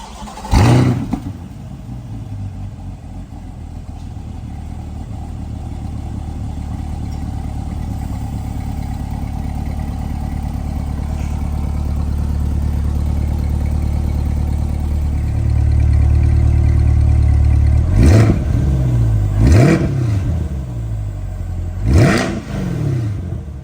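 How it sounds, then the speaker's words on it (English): A Corvette C8 fitted with round exhaust tips idles with a low, steady drone that swells gradually, then gives three sharp, loud revs near the end, with no talk over it. "We're going to get a sound clip of that car."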